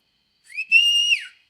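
A single rising whistle, clear and close, held steady for about half a second before dropping off, with silence around it.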